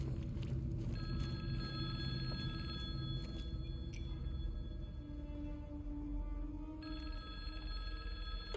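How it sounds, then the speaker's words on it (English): A telephone rings in Silent Hill 2 Remake, with repeated shrill electronic bursts that start and stop over a low, murky ambient drone, with no talking. "Ooh, phone's ringing."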